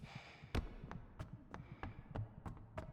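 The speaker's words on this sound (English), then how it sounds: "Okay, so there is a heartbeat." A heartbeat sound effect in the video game Idols of Ash thumps faintly in a slow, steady rhythm, with sharp clicks and taps mixed in, quiet overall and with no talk.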